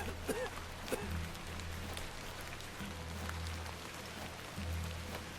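Continuous rain in the video game The Excavation of Hob's Barrow, an English folklore setting, falls as a soft, even patter over a low background hum, with occasional faint clicks and no voices.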